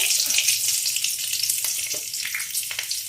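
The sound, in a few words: chilli and bay leaf sizzling in hot oil in a kadai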